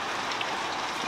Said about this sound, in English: go and listen to the rain